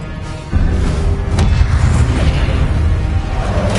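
Expelliarmus disarming spell cast in Hogwarts Legacy, a loud game effect: a sudden booming burst that swells into a sustained rumbling wash of magical energy, with a sharp crack midway and no talking.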